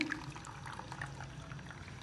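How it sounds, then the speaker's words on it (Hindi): Cold water is poured over cooked sago in a strainer, making a faint, steady, continuous splashing pour with no voices. "तो हम ऊपर से ठंडा पानी डाल रहे हैं।"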